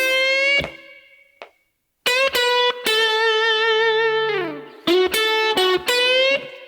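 Combined blues licks played on an electric guitar, with sustained bent notes and quick picked phrases separated by short pauses. The guitar is clear, close and alone.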